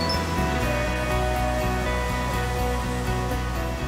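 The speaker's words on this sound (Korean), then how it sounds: "물소리가 경쾌한 용추폭포는 암벽을 타고 힘찬 물의 흐름을 이어가는데요" Yongchu Falls in Juwangsan National Park pours through a rocky gorge, giving a steady, continuous rush of falling water, moderately loud and unbroken, with no voices.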